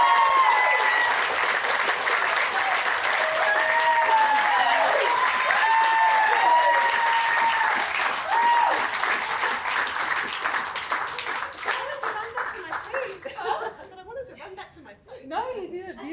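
Audience applause at a career talk, a dense crowd clapping with some chuckles that starts loud, holds steady, then thins into scattered claps and a few voices near the end.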